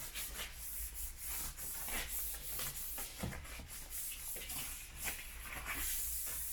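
A moist wipe rubs repeatedly across the surface of a Land Rover Discovery 3, giving soft, quiet, rhythmic swishing strokes at close range.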